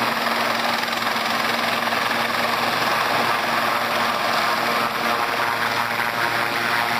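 Chief minister's helicopter hovering above a helipad in Bhopal, Madhya Pradesh, unable to land while cattle stray onto the pad, a loud, continuous rotor and engine drone that holds steady throughout with no talk.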